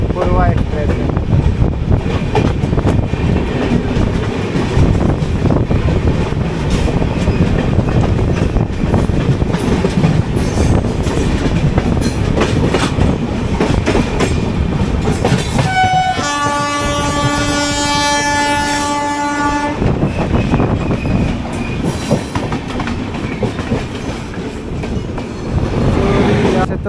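The New Delhi–Howrah Purva Express rushes past loudly and close with a steady roar of wheels and wind, and a long horn blast sounds partway through before the rumble carries on.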